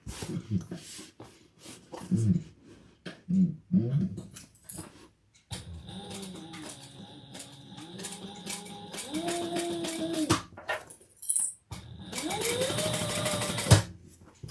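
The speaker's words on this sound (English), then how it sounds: "let's sew that with the seam allowance and pattern" A home sewing machine stitching a seam on a garment, its steady whirring hum running in several long bursts. Someone talks close by in the gaps between the runs.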